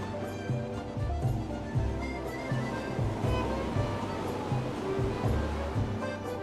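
Ocean waves at sea wash and slap in a steady, rhythmic churn at moderate volume, each surge swelling and receding in turn over a continuous watery hiss.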